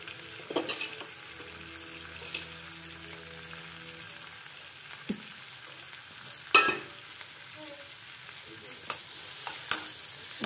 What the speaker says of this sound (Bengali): রসুন পেঁয়াজ দাও, একসাথেই তো ভাজা হবে